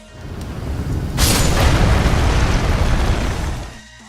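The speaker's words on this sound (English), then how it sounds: "you can stab the hole that spews fire with your sword and cause it to explode" A fire-spewing chariot in Elden Ring blows up: a rumbling burst swells into a loud, sustained explosive roar lasting a few seconds, then fades out.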